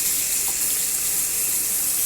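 A little water poured into a curry pan seasoned with turmeric, chili and salt gives a steady, even hiss and gush throughout, fairly loud and close, with no talking.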